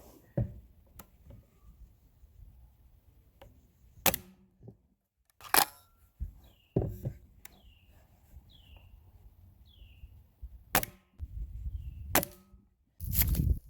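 An air gun firing BB pellets, sharp close snapping shots spaced irregularly across the stretch, with faint clicks and handling noises between them.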